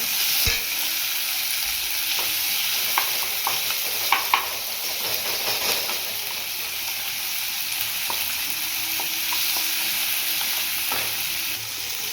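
Onion, green chilli, curry leaves and tomato sauté in a pan for a vegetable kurma, giving a steady close sizzle with occasional scraping stirs of a spoon throughout.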